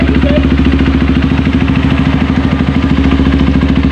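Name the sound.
Honda CRF 150L motorcycle engine idling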